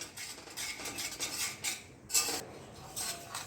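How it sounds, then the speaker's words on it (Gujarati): A utensil stirs flour into ghee in a pan for a Gujarati sukhadi sweet, making soft repeated scraping sweeps with a few light metallic knocks, close and fairly quiet, no talking. "લોટ બરાબર ઘીમાં મિક્સ કરી અને ત્યાં સુધી ડાર્ક બ્રાઉન જેવો થાય ત્યાં સુધી આપણે એને હલાવતા રહીશું"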